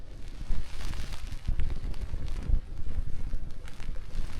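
Strong wind gusts buffeting across open moorland on Dartmoor, roaring and rumbling into the microphone in uneven surges, loud and close with no talk.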